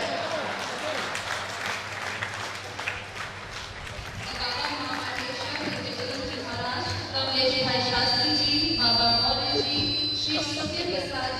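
A crowd at a religious gathering with a Jain acharya claps vigorously while a voice speaks over it, and music with sustained tones swells in partway through.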